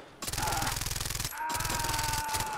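Rapid bursts of suppressed gunfire in the video game Far Cry 3, two fast strings of muffled rattling shots separated by a short gap, loud and close with game ambience underneath.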